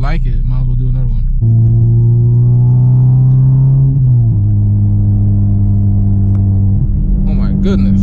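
A naturally aspirated Honda Civic Si engine pulls hard while driving, a loud, close, rising drone that drops briefly at a shift and climbs again; a voice talks at the start and end.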